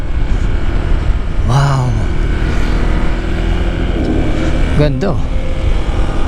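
A Honda ADV 160 scooter cruises along a winding island road on Cagraray Island, Albay, its engine a steady drone under heavy wind rush, with a rider briefly exclaiming over it.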